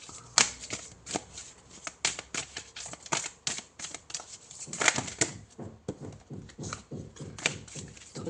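Tarot cards are shuffled and handled, a steady run of crisp papery riffles and flicks at close range, repeating rhythmically for several seconds with no speech.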